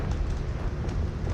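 A Confringo fire-blast spell explodes in a Harry Potter video game with a loud, continuous low rumbling roar that holds steady for its whole short length.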